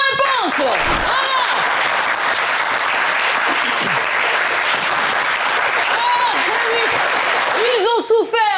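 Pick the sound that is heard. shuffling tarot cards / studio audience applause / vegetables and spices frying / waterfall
studio audience applause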